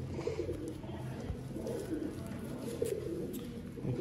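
Pigeons coo softly and steadily throughout, a low repeated murmur from birds kept by a fancier of Sialkoti pure pigeons, with no clear talk over it.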